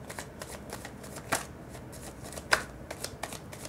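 Tarot cards are shuffled by hand in a steady run of soft riffling and sliding, with two sharper card snaps standing out; close and fairly quiet, with no talking.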